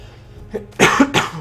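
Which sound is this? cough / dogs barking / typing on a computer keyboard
cough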